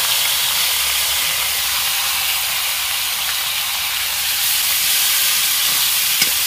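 Marinated chicken fries in hot oil in a village kitchen, giving a steady, even sizzle and hiss heard up close and unbroken, with no talking.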